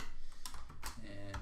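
Quick, soft keystrokes on a computer keyboard typing into a spreadsheet, a handful of faint close clicks in an irregular rhythm over a low background hum.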